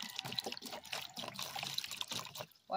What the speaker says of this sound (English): So you guys see, washing the cheney root.